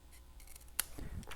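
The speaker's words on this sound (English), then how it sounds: "Easy snipping since it's just straight lines." Scissors make a single crisp snip through patterned paper, cutting a straight line for a paper-pieced cup on a holiday caddy craft. The cut is close and quiet, with soft handling rustles before and after it.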